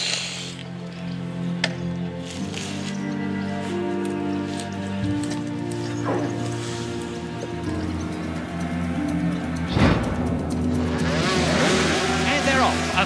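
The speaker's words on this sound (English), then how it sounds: "Motor racing." Racing motorcycles roar past at a race start, with engines rising and falling in pitch as the pack streams away, loud and close, mixed with crowd noise and a voice talking over it.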